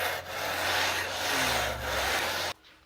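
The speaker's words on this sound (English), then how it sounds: "the first thing we're going to do is give them the scrape down with the scraper" A scraper is dragged down a plaster wall to prepare it for white set, giving a loud, close, continuous rasping scrape in several long strokes that stops abruptly at the end.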